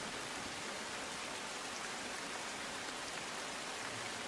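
Heavy rain pours down in Panchlai village, Valsad, a dense, steady roar of falling water with no breaks, loud and close throughout.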